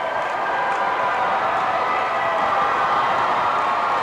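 A packed high school tournament basketball crowd in a gym roars in a steady, dense wall of cheering and shouting that stays loud and even throughout, without distinct voices.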